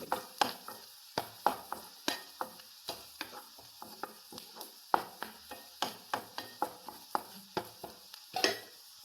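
Onions frying in a pan with chili powder and turmeric, stirred by a spoon in a rhythmic run of sharp scraping taps over a faint sizzle. The stirring is close and steady throughout, with no talk.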